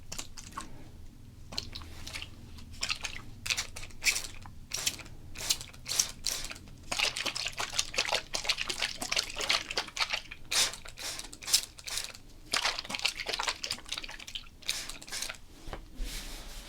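A spray bottle of water fires many short, quick hissing bursts, some close together and some spaced apart, at close range with no talking.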